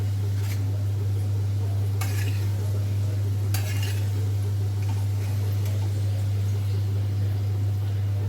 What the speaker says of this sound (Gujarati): આપણા કોફતા તળીને તૈયાર થઈ ગયા છે.